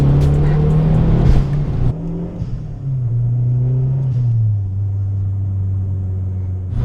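A turbocharged Mazda MPS engine hums steadily at low revs up close in third gear around 3,000 RPM, its droning tone rising then dipping through a gear change before settling into a deep, even rumble.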